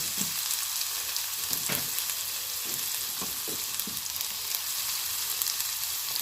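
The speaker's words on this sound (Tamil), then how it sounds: "சட்டி அடுப்பில் வச்சு எண்ணெய் சேர்த்துருக்கி அதோட இந்த வெங்காயத்தை சேர்த்துக்கலாம்" Onions fry in oil in a pan for a chicken samosa filling, giving a soft, steady sizzle with a few faint stirring taps and no voices.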